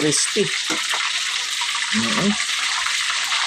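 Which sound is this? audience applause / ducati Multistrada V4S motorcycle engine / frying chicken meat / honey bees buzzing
frying chicken meat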